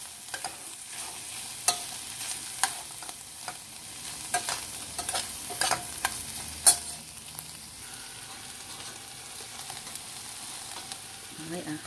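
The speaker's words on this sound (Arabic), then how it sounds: "الآن نحمصها مع الطماطة والمعجون" Meat frying in a pot with tomato and tomato paste, a low continuous sizzle broken by intermittent scraping clicks of a stirring spoon, close and moderate in level.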